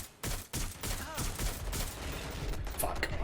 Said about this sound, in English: there's a person with a machine gun